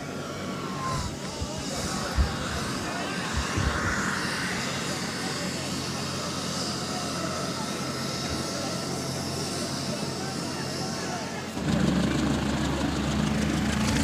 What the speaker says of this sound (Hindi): और अब यहाँ से हेलीकॉप्टर हो रहा है टेक ऑफ